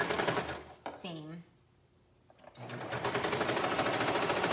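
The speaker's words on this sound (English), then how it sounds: "Maybe just in a couple spots with your sewing machine" A sewing machine stitches a knit neckband in rapid buzzing runs, one burst before a short pause and a longer steady run after, while someone speaks briefly near the start.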